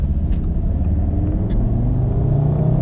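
A stage 2 Audi RS3 running E85, tuned to about 521 horsepower, with its engine held at a steady, loud rumbling idle-to-light-throttle drone that stays constant throughout, plus a couple of faint high clicks.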